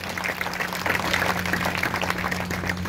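A Sunday church congregation claps loudly, a dense, steady burst of applause lasting several seconds over a low electrical hum.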